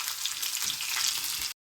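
Curry leaves and dried red chillies sizzling in hot tempering oil, a dense, close, steady crackle that cuts off abruptly.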